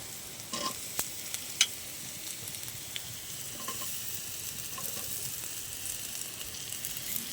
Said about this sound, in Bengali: আমি পেঁয়াজ দিয়ে রসুন দিয়ে ভালো করে এটা ভেজে নেবো একটু লাল লাল করে